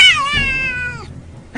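A house cat lets out one loud, close meow that starts high and slides downward, then fades into quiet, with a brief new sound at the very end.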